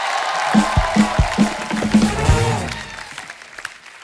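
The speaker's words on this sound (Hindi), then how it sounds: "जोरदार तालियां टीकू सर के लिए।" Scattered claps and a burst of TV studio audience applause at The Kapil Sharma Show with a few loud hits, fading out toward the end.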